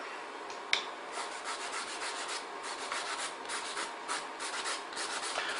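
A steady, airy whooshing hum of a nail station dust extractor runs continuously at a fairly low level, with one brief click near the start.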